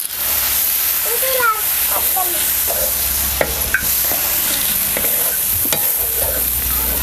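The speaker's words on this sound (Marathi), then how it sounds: "बघ आता ह्यामध्ये आपण थोडंसं पाणी घालूया" A steady, loud sizzle fills the pan throughout as a little water is added to frying chutney masala for dabeli, with a few sharp scrapes and clinks of stirring cutting through the hiss.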